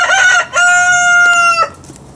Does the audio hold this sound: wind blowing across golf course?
no